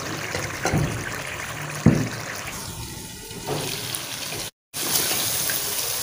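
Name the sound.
water poured into mutton for gravy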